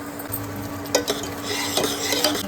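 Tomatoes fry in oil in a pan for an oil-based brinjal curry, with a steady soft sizzle. A utensil stirs and scrapes close by, giving a few clinks and taps.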